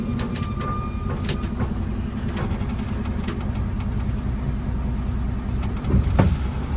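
Traffic on a ghat road near Ramanagara, heard from inside an SL truck: a continuous low engine and road rumble with occasional clatter, swelling slightly near the end as vehicles approach.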